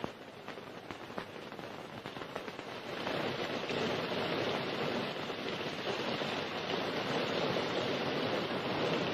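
Heavy rain pours steadily, a dense hiss that grows louder after a few seconds and continues without pause.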